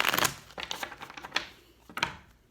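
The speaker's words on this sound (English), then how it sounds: "But I'm gonna like shuffle a couple more times" A deck of playing cards is shuffled by hand, with a quick burst of riffling followed by a few softer, crisp card flutters close by.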